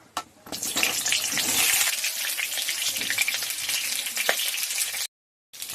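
Slices of pointed gourd hit hot mustard oil in a kadai, giving a loud, steady crackling sizzle that runs without pause, then breaks off into a brief silence near the end.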